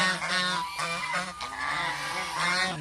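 Domestic geese on a Bangladeshi poultry farm honking repeatedly in overlapping nasal calls, a small flock at moderate distance, no talking.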